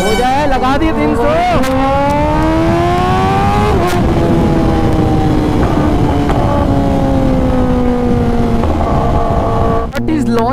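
A Kawasaki ZX-10R superbike revs hard with rising and falling engine pitch as gears drop during a launch control run, loud and continuous with a voice talking over it.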